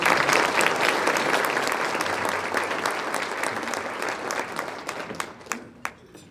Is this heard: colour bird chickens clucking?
no